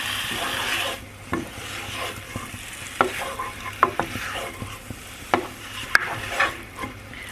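Chicken frying in a pan with a steady sizzle, stirred and scraped by a wooden spoon in repeated knocks and rasps, close up and without talk.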